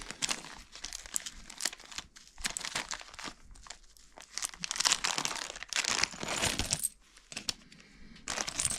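Plastic zip bag crinkles and rustles close up in irregular bursts, with brief crisp crackles and short pauses between handling.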